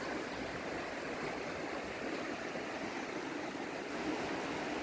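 A mountain river in Transcarpathia rushes over and swirls around stones, making a constant, even wash of water noise with no voices.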